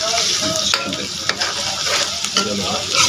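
Mutton sizzles steadily in a hot pan with ginger-garlic paste while a utensil scrapes and stirs it, with occasional clinks against the metal.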